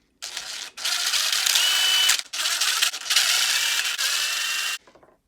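A 1.5 hex wrench turning screws on an RC car differential, several sustained close ratcheting, grinding bursts separated by brief pauses, loud and alone without speech.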